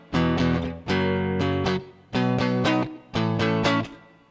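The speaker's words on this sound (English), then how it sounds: "So I'm actually ducking down the volume here as I change the chords" Electric guitar chords played through Guitar Rig 5 with automated volume ducking, four distorted strummed chords that swell in and drop out with short gaps between them as each chord changes.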